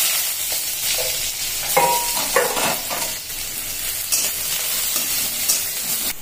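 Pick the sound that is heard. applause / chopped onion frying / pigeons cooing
chopped onion frying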